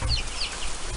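Silver Lace Wyandotte chickens cluck softly close by, a few short chirping calls over low background rumble.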